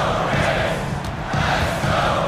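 Crowd noise from a simulated basketball arena in an esports video game match, a steady, dense roar of cheering spectators filling the whole moment without pause.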